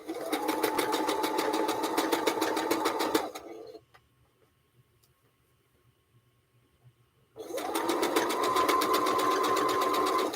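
A sewing machine runs in fast continuous bursts, stitching quilt pieces together, loud and close, stopping for a few seconds of near silence before starting again.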